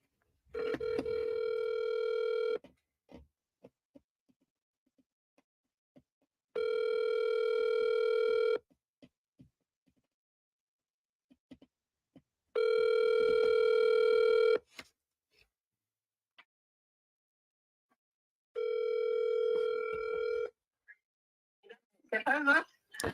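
A telephone rings back four times in slow, evenly spaced bursts while the call goes through, then a voice answers at the end.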